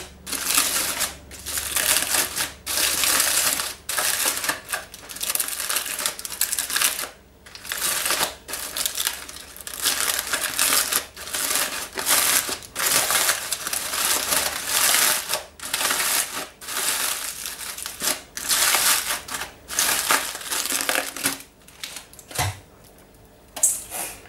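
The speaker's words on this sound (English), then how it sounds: "Then we remove foil." Aluminium foil is peeled away from a chocolate bowl, loud close crinkling and crackling in repeated bursts with brief pauses between pulls, continuing steadily throughout.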